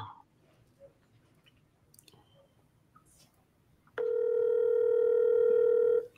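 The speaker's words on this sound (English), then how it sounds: "Come on, Stephanie, pick up the phone." A steady telephone dial tone sounds loud and close for about two seconds near the end, after a mostly quiet stretch with a few faint handling noises.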